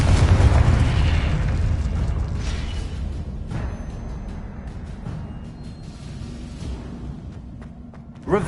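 Confringo fire spell in Hogwarts Legacy lets off a loud booming blast at the start that rolls into a long fading rumble, with a few smaller pops and whooshes trailing off.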